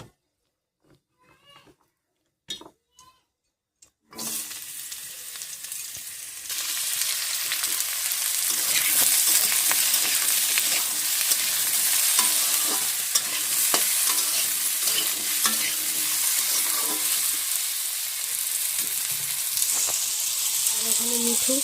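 Cubed potato and papaya hit hot oil tempered with five-spice, dried red chilli and bay leaf, bursting into a loud, steady sizzle after a few quiet clinks and stirs, with the frying continuing strongly to the end.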